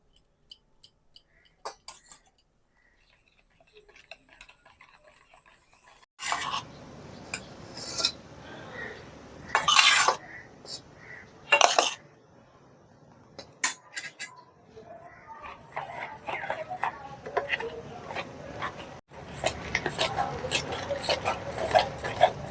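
Palm fruit cake batter is stirred and folded in a bowl, with intermittent scraping, clinking and rubbing of a utensil against the bowl that comes in bursts, growing denser and busier toward the end.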